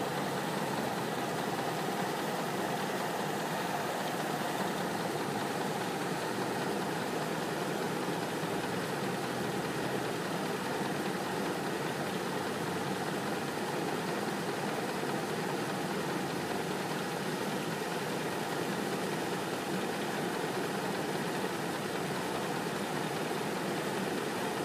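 A 2004 Mazda 6 with a 2.3 engine idling, a steady even hum with no changes in speed, close and moderately loud throughout.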